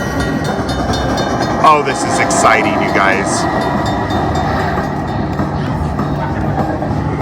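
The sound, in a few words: train sound effect on Luxury Line Cash Express slot machine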